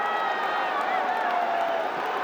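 A large crowd at a cricket match in Mirpur stadium keeps up a steady, loud roar of cheering and whooping, with some clapping mixed in.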